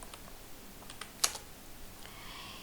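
Computer keyboard typing with a few scattered, soft keystrokes at an uneven pace, one sharper click standing out, quiet and close with no voices.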